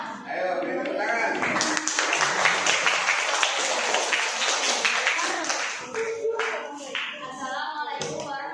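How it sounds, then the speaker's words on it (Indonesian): A classroom of students gives a presenter a burst of lively, close clapping that builds and then tapers off, with voices speaking over the end. "Ayo, beri tepuk tangan."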